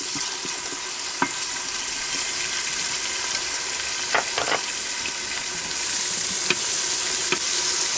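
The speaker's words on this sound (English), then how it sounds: "Saute these for a bit." Food for roast beef with potatoes sautés in a pan, a steady close sizzle and hiss with a few faint scrapes and clinks from stirring, and no talk.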